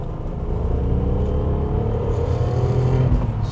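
A Volvo race car, billed as once the world's fastest four-door, accelerates hard from inside, its engine a loud steady rumbling drone with pitch climbing through the gears and a brief dip at a shift.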